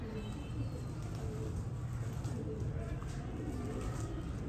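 A black ringed pigeon settling on a perch gives low, soft repeated coos close by, with someone talking over them and faint chirps in the background.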